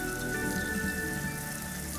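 Rain falls onto the ground in a continuous even patter, dense dripping spatter close by with a steady hiss and faint tonal background hum, no voices heard.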